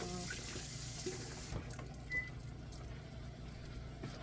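A spoon rinsed under a running kitchen tap while cooking green beans, a steady broadband rush of water that shifts and thins partway through, close and continuous, with no talking.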